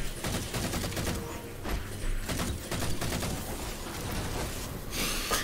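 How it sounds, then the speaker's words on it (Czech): Enemy gunfire in the video game Halo 4 comes as dense bursts of shots and crackling volleys, continuous and busy throughout, moderately loud with no speech. "Jak až do mě střílí, to je dobrý."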